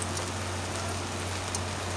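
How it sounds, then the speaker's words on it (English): Heavy rain falls on a town street in the center of Nancy, a dense, even hiss with a faint low hum beneath and no voices. "It's raining a lot in Nancy."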